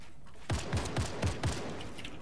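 Five evenly spaced shots from an AK rifle in Fortnite ring out in a quick burst, each a sharp, loud crack with a booming low thump, separated by short gaps and followed by a brief fading tail.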